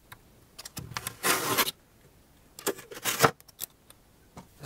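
Utility knife scoring and snapping drywall for a basement bathroom build, a few short scraping cuts and rustling bursts, close and fairly quiet, with pauses between strokes and no talking.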